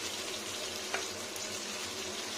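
Small fish fry in oil over low heat, giving a soft, even sizzle that runs steadily throughout with one faint pop, close and quiet.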